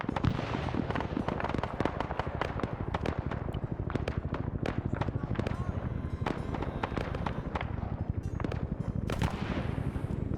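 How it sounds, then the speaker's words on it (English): Dense battle explosions and gunfire in the Vietnam War game SOG Prairie Fire, with rapid booms, cracks and bursting blasts in continuous overlapping barrages from near and far, under a speaking voice at times. "I think I actually hear the artillery landing. Oh, or those are just grenades going off."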